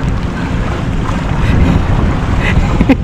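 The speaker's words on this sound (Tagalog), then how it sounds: "Maiwan tayo! Diyan yung bangka!" A passing boat near an island, a loud steady motor rumble mixed with heavy wind buffeting.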